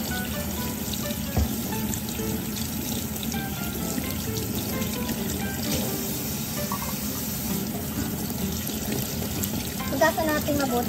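Homemade sausage rinsed under a running kitchen tap, a steady hiss of flowing water with light splashing and handling noises, continuous and fairly close throughout.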